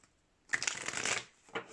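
Tarot cards shuffled by hand at close range in a calm setting: a brisk riffling burst of about a second after a quiet start, then a short softer second shuffle.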